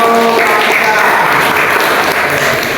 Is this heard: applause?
yes